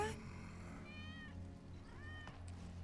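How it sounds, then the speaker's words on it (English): Two plaintive, drawn-out meows from a cat in Final Fantasy 7 Remake, rising and falling, heard over a steady low game ambience and music bed. "That's Wedge's cat."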